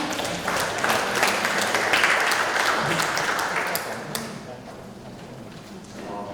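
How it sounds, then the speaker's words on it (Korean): An audience at an open-source software conference welcomes a speaker with a round of applause, loud and full for the first few seconds, then thinning out and fading into quieter room noise near the end. "큰 박수로 맞아주시기 바랍니다."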